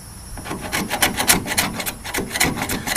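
Plastic body filler is scraped off a dent on a 1978 El Camino, giving close, rhythmic rasping strokes in quick repeated passes at moderate loudness.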